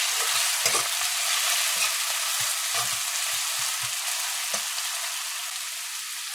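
Garlic, pepper, scallions and tomato fry in hot oil with a steady close sizzle, broken by soft scraping taps as they are stirred in the pan.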